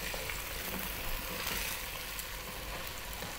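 Celery frying and being stirred in a beef stew pot gives a steady, moderate broadband sizzle that runs evenly throughout, with faint scraping movement and no voices.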